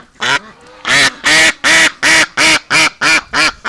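A duck with a leg injury quacks loudly outdoors in winter, nine harsh, evenly spaced calls close to the listener, each lasting a fraction of a second, with no talking.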